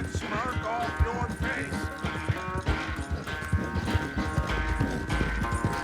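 Horse hooves gallop in a steady clip-clop rhythm in Red Dead Redemption 2, loud and close, layered over a dense game music score with occasional whinnies.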